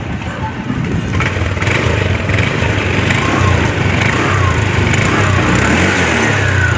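A Honda Click V2 150cc scooter engine runs close and loud, a steady sputtering idle that keeps a constant rumble throughout, with a voice faintly present beneath.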